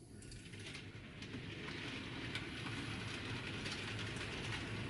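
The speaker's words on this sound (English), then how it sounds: "the train can simply avoid the storage siding cartridge and run round the layout" A model train rumbles steadily along layout track with a soft rhythmic clatter and faint metallic ticks, continuous and fairly quiet.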